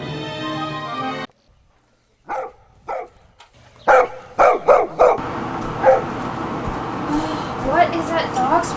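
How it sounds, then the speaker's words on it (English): A dog in the woods at night barks in a quick series of sharp yips and woofs at moderate distance, mixed with rustling and other noise after a loud burst at the start, with voices nearby. "What is that dog's problem?"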